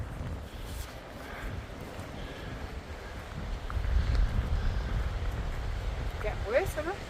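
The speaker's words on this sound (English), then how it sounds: "It's windy." Wind blowing across an exposed high point on a forest walking trail in Hamsterley Forest, a steady low rumbling roar buffeting the microphone, swelling stronger midway, with brief snatches of a voice near the end.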